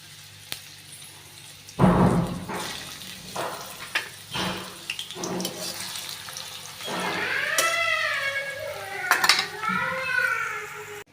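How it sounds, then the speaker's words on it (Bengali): Onion drops into hot oil in a pan for a beef and new potato curry, with clattering utensil knocks and a sizzle. A voice talks over the later part. "তেলটা গরম হয়ে গেছে এখন আমি পেঁয়াজটা দিয়ে দিব"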